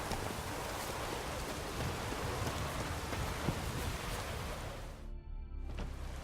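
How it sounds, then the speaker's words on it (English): Steady, dense rainfall in The Witcher 3: Wild Hunt hisses evenly throughout, a thick broadband wash with a brief dip near the end before resuming. "Raining fucking buckets."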